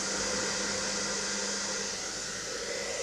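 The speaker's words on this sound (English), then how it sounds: "So let's try the hairdryer test." A hair dryer blows with a steady, even whoosh and a faint motor whine, running continuously at constant loudness with no talk.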